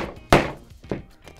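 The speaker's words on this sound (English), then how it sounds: "after a couple of hits with the hammer." A hammer striking a piece of cured UV resin: one sharp, loud thunk followed by a second softer hit and a faint third tap, close and dry.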